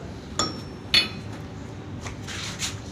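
Several sharp knocks ring out as a PVC hot water pipe is hammered into a fitting, a few separated clinking taps over quiet background.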